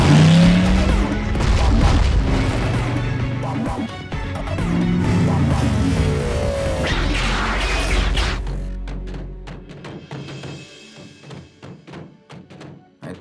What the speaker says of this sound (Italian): Rombo ai motori e andiamo.